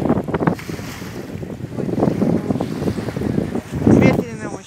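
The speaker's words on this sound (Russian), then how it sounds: "Ветрено очень." Strong wind buffets the microphone at a sandy beach by a resort, loud gusty roar with surf and water noise underneath and a voice talking briefly in the mix.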